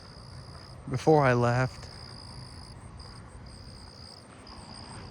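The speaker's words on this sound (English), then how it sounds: "there's definitely more southeastern field crickets now than there was before" Southeastern field crickets chirp steadily at night with a continuous high trill, joined by another faint insect pulse, while a person briefly speaks over them.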